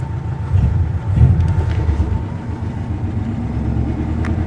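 A Subaru GL's engine idles, heard from underneath the car as a steady low rumble with a gritty mechanical churn and some wind buffeting, fairly loud and continuous.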